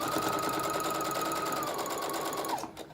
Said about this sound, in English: So as I'm sewing, I'm going to be turning under these raw edges.